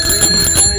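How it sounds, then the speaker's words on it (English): A steady bicycle bell rings continuously for under a second, bright and insistent, with no voices. "Most important, make sure your bell works."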